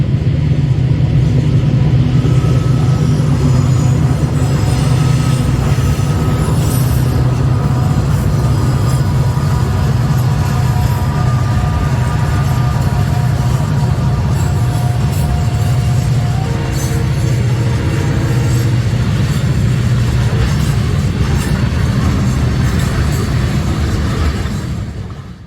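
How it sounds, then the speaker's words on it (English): Four EMD diesel locomotives on the Maryland Midland Railway climbing Blue Ridge Grade, a loud sustained low engine drone and rumble of a passing train that stays steady and close throughout. "the 4 EMDs were beginning their thunderous climb up Blue Ridge Grade"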